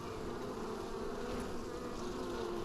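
Bees buzz steadily around a top bar hive, a dense, continuous close drone that holds at an even loudness throughout with no talking.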